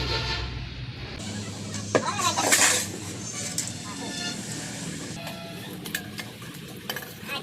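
Bay leaves, cumin, onion and garlic go into hot oil and sizzle steadily, with a spoon clattering and scraping against the pot and a brief louder burst of frying near the start; faint background noise runs throughout.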